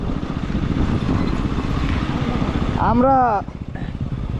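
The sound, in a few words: KTM Duke 125 and Apache RTR 160 motorcycles racing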